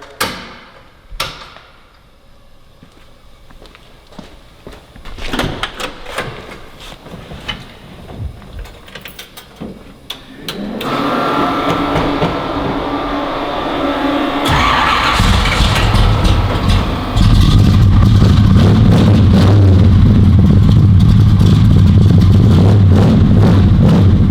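A classic car on a dealer lot is fired up: clicks and clunks, then the starter cranks and the engine catches and settles into a loud, rough idle, rising into sustained revving toward the end, close by.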